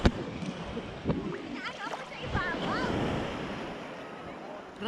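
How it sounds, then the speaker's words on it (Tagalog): Ocean surf rolls and washes along the shore at Finale Ligure, Italy, a broad hissing wash rising and falling beneath excited voices and a little wind on the microphone. "Grabe yung alon, no?"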